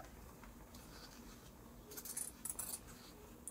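Scissors snip paper, cutting a square into a circle, giving a few faint, close, crisp cuts in a quiet room, clustered near the end.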